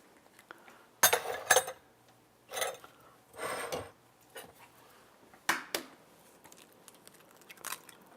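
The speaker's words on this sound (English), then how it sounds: "I'm going to stir this around." A spoon stirs dark corn syrup and flour in a bowl, giving intermittent clinks and short scraping bursts separated by quiet gaps, fairly close and moderately loud.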